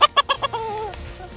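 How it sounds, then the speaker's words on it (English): A pet rooster clucks indoors: four short, sharp clucks in quick succession, then a drawn-out, wavering call, loud and close, with no talking. "He's a rooster named Bonu."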